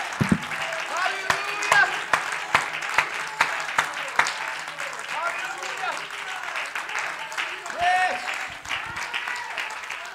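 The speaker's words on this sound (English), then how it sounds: "Somebody ought to give God a hand clap of praise for the word of God in your life." Church congregation clapping in praise, scattered sharp hand claps and a loose patter of applause with voices calling out over it, fairly close and uneven in rhythm.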